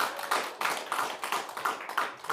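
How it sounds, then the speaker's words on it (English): A crowd applauding, a steady wash of clapping with a loose rhythmic pulse running through it. "Give a big round of applause"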